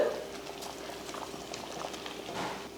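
Hot water boiling in a pot on a stove while rava kichadi is cooked: a soft, steady bubbling and simmering with faint gurgles, quiet and close, no talk.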